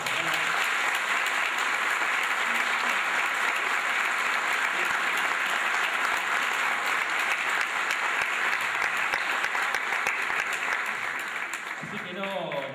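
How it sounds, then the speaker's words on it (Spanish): Sustained audience applause fills the hall, a dense, steady wash of clapping that holds strong before tapering off near the end. "así que vamos a pedir un aplauso para él."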